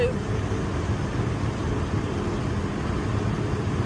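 Steady broadband rush of wind and road noise fills the cabin of a Morris Minor 948cc saloon fitted with a roof rack and a 4.5 differential, a constant drone at cruising speed with no talk.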